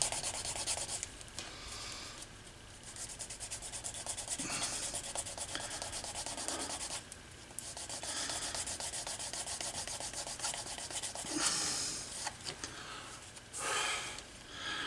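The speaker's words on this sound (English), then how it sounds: "I can grab a piece of canvas and get this burnish much better." Canvas rubs briskly back and forth along the edge of a leather bifold wallet, giving soft, close scratchy strokes in uneven bursts with short pauses between them.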